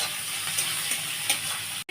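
Chopped onions fry in a pan for a yogurt okra dish, giving a steady, bright sizzle with small pops and a stirring scrape or two near the end, close and alone.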